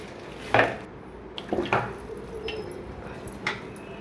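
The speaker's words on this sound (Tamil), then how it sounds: "ஒரு பாத்திரம் வச்சுக்கலாம். அதில் எண்ணெய் ஊற்றிக்கலாம்." A metal pot clatters onto a stovetop with a sharp clank, followed by lighter knocks and scraping kitchen sounds at moderate volume, as refined oil is poured in for cooking thalaikari kuzhambu.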